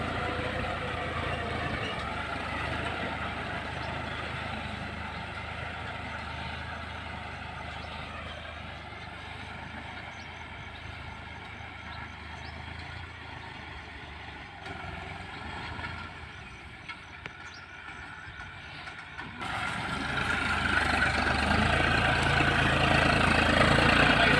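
A John Deere 5050D tractor engine runs steadily as it drives across a paddy field, a constant low rumble throughout that swells louder near the end.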